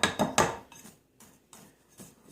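Bath bomb mixture with rose clay, coconut oil, fragrance and polysorbate 80 being chopped in a bowl: a few close, crisp scraping clinks at first, then fainter, sparser taps.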